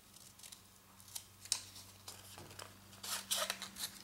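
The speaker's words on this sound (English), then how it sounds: "Then I just cut these masks out." Scissors snip through stamped paper to cut out craft masks for a card, a quick series of close, crisp cuts and rustles with no talking.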